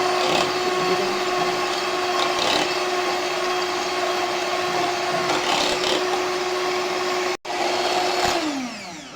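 An electric beater whips cooled custard for mango ice cream, its motor giving a loud, steady, continuous whine close by, briefly cutting out near the end before running on and winding down.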